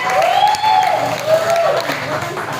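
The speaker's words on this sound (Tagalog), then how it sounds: "Malakas na palakpak!" A crowd claps loudly and steadily at a charismatic Catholic prayer meeting, filling the room with dense applause while a voice rings out over it.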